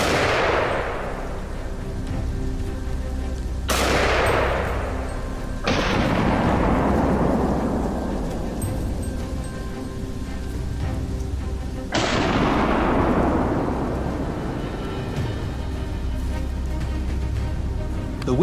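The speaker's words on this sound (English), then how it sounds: "Swiftly pulling the trigger, the bullet struck its head, leaving the beast no chance to escape." Hunting rifle fired at wild boar in winter: four loud, sharp gunshots spread over about eighteen seconds, each ringing into a long booming echo that decays slowly over a steady background rumble.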